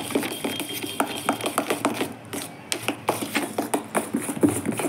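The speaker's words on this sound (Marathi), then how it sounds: "5 ते 6 मिनिटं असं फेटून घ्यायचं आहे" Dahi vada batter whisked by hand in a bowl for several minutes, giving a steady run of quick, close scraping and tapping strokes with no talk.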